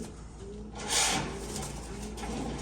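Breeder pigeons in a rooftop loft in Chandpur, low soft cooing under a faint rustle, with a brief brighter flutter near the middle.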